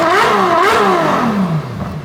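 A Ferrari F12 TDF V12 engine revs hard toward 9,000 RPM, its loud, close howl rising and falling in pitch in quick sweeps before dropping away.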